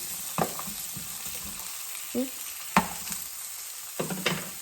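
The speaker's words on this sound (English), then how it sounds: "add your carrots and your potatoes that you chopped earlier. And roast them" Chopped carrots and potatoes roasting in a pan, a low sizzle broken by several scraping, clattering stirs of the vegetables.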